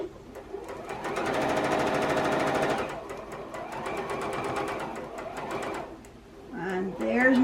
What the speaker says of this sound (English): My sewing machine's making a noise.